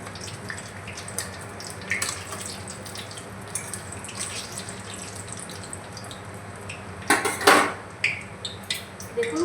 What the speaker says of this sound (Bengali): তো এবার একটা ছান্তার সাহায্যে তেল ঝরিয়ে ভালো করে তুলে নেব।